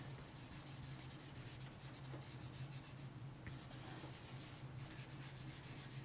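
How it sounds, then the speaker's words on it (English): Pencil shavings are smudged across drawing paper with a soft, continuous rubbing and scratching close up, steady and faint, with brief pauses between strokes. "So I'm just going to put in some shavings there and go around smudging"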